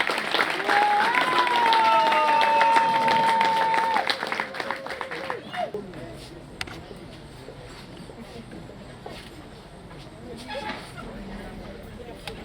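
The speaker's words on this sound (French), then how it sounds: "Pour ça, nous la saluons avec nos acclamations" A crowd at a memorial tribute applauds and cheers loudly for a few seconds, with a long whistle-like shout over the clapping, then the noise fades to scattered claps and quiet murmuring.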